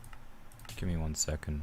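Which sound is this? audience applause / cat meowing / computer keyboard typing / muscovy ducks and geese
computer keyboard typing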